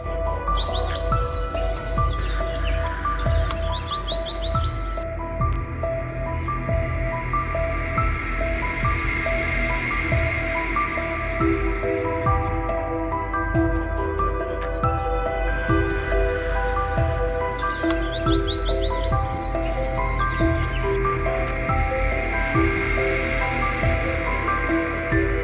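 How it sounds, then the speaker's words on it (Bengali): A purple sunbird calls from a branch outdoors, with two clusters of quick, high, bright chirps near the start and again later, set over a steady background hum of insects. "একটা পার্পল সানবার্ড একটা অপূর্ব একটা ডালে বসে ডাকছিল আর কি, এত সুন্দর লাগছিল, খুব পরিষ্কার করে ডাকটা রেকর্ড করতে পেরেছি"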